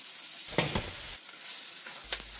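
Eel, fatty braised pork and rice cakes are stir-fried over high heat in a wok, with a soft continuous sizzle broken by a few sharp scraping clatters of a spatula against the pan.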